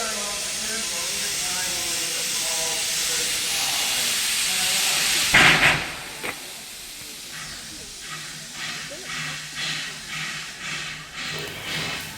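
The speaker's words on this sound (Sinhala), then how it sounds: "දුම්රියේ ඉදිරිපස ඔක්කොම වාෂ්පයෙන් වැහිලා තියෙන්නේ." The Puffing Billy steam train hisses steam at the station, a broad loud steady rush that cuts off abruptly midway, followed by quieter rhythmic puffs and faint voices in the background.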